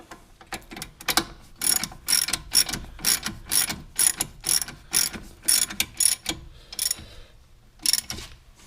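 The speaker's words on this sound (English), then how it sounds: "And then take a ratchet, snug them up." A hand ratchet snugs up the front brake caliper bolts on a 2009 Pontiac Montana, giving close, loud bursts of rapid clicking in repeated strokes with short pauses between them and no voices.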